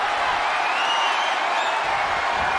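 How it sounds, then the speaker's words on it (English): Wrestling arena crowd in WWE 2K23 giving a dense, continuous roar of cheering that stays loud and even throughout, with no single voice standing out. "when you can't hear yourself think because the crowd's so loud"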